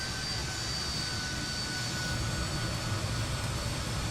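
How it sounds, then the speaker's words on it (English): Jet engines of a Fokker F28 airliner in Microsoft Flight Simulator, a loud, steady broadband roar with a high whine running throughout, heard close and constant while taxiing. "It's the engine sounds, guys. Can you actually hear them?"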